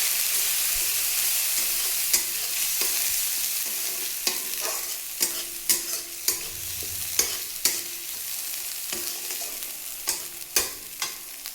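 Vegetarian spiced stuffing for stuffed ash gourd, with ground coriander and Kashmiri chilli, sizzles steadily in a pan while a spatula scrapes and clinks in scattered sharp strokes; no voices.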